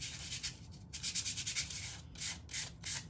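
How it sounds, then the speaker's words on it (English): A small piece of wood rubbed by hand with sandpaper in short back-and-forth strokes, a soft rhythmic scratching that comes in bursts with brief pauses, quiet and close with no talking. "But we're not doing a lot of sanding, just a little bit of sanding."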